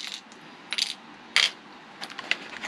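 Small plastic game dice, two black and one yellow, tumble out of a card game box onto a surface, giving several light scattered clicks and rattles, close and fairly quiet, with no talking.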